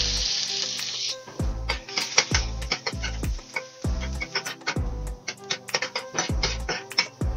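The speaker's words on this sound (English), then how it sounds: "now we are going to saute our veggies" Vegetables sautéing in olive oil in a pot over the stove for breakfast quesadillas give a steady close sizzle, broken by repeated sharp knocks and scrapes of a utensil stirring against the pot.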